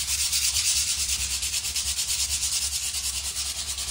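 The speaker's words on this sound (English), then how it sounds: "I want my drain nice and sanded in there." A bathtub drain is sanded before reglazing, giving a loud, continuous rhythmic scratching with quick regular strokes that runs without a break.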